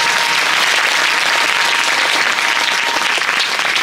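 An audience at a Bhagwat Katha, a Hindu religious discourse, claps loudly and continuously, a dense close applause that fills the whole moment.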